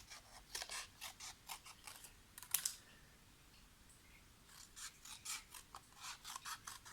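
Scissors cut strips of patterned design paper for a handmade card, a run of quick crisp snips, then a brief pause and another steady series of close, light cuts.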